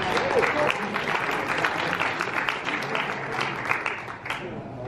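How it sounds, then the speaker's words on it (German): A convention audience claps and applauds in a dense, steady burst that fades slightly toward the end, with voices mixed in under the clapping. "mehr Applaus"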